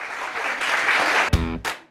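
A studio audience at a radio quiz show in Lucknow breaks into applause, a dense run of clapping that cuts off abruptly near the end, followed by a couple of short sharp knocks.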